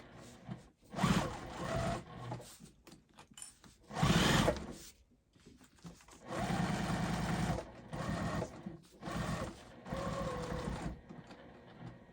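A sewing machine bastes down both sides of a crossbody bag, running in several steady whirring bursts of stitching separated by brief pauses, close and fairly loud with no one speaking.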